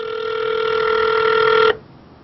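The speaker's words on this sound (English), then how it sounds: "It's ringing. I hope the chat can hear it." A telephone rings with one long, steady electronic ringback tone during a prank call, sounding close and fairly loud, then cutting off abruptly into near silence.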